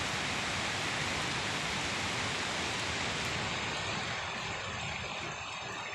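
Rushing river floodwater during a typhoon, with rain still falling, makes a loud, steady broadband roar that fills the whole clip without pause.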